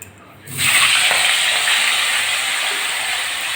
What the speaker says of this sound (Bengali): কড়াই গরম হয়ে গেছে তেলও গরম হয়ে গেছে এবার মাছগুলো দিয়ে দিচ্ছি